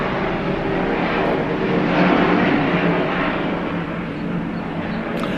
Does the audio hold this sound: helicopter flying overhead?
yes